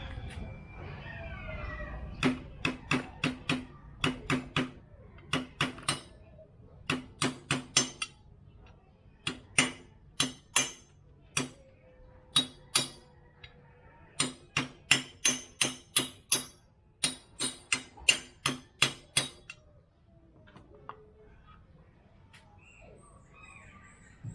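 Hammer tapping a seal into a Yamaha YZ250 dirt bike engine case, driving it with a deep socket: about forty sharp metallic taps in quick bursts, clear and close, with brief pauses between the groups.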